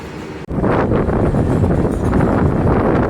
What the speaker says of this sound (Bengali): এটা ক্রস হয়ে গেল এবার ট্রেন ছাড়ছে